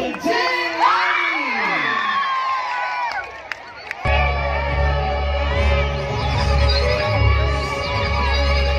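Crowd at the F8 2019 festival stage in Makassar cheers and shrieks for a performance, high excited voices rising over a sound system, then a loud steady roar of cheering with low music or hum underneath.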